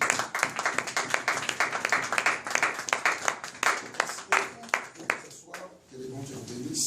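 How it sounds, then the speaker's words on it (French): A church congregation claps and applauds in a sustained burst of dense, fairly close clapping that tapers off near the end, with voices mixed in. "On acclame pour la parole."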